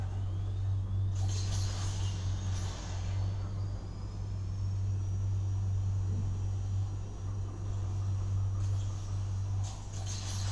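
A Tesla racing in the mobile game Asphalt 8 gives a steady, low electric-motor hum and rumble with light whooshing rising and falling, quiet and continuous with no distinct engine revving.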